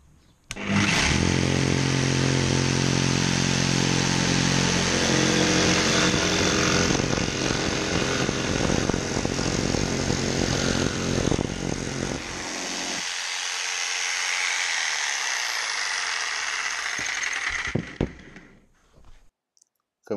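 A Bosch GST 140 CE jigsaw cuts off the corner of a wooden board, its motor whining loud and close for about twelve seconds. The pitch then eases as the blade finishes, before the tool stops.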